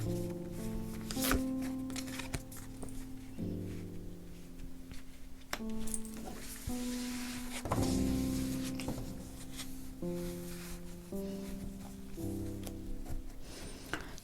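Tarot cards being shuffled before a draw, a steady close riffle and slide of card stock running for many seconds, with soft flicks and taps and no talk.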